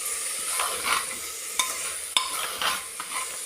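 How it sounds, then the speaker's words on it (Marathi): Egg biryani masala with rice fries on full gas, a steady close sizzle with a spoon scraping and turning it over, sharp clacks punctuating the stirring, no talk. "फुल गॅस आहे खाली, त्याला छान फ्राय करून घेते, खालीवर परतून घेते."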